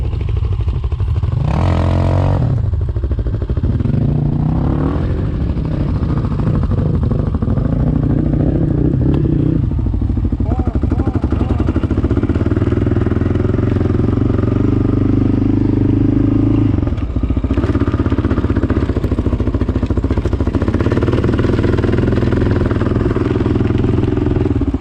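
A dirt bike engine running loudly nearby, its rough mid-pitched drone rising and falling as the throttle is revved, with clattery mechanical texture throughout and no break in the sound.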